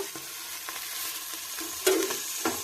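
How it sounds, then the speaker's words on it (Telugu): Freshly picked leaves frying in a little oil in a kadai under a lid, a steady crackling sizzle with a few louder pops and spatters, close and alone. "వెంబడే మూత పెట్టి వేయించుకుందాం"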